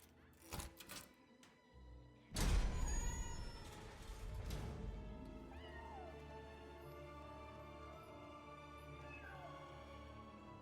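Stray magical cats in the Split Fiction video game give a string of meows, starting with short bursts and then a loud burst that fades into echoing mews trailing away over a steady background hum.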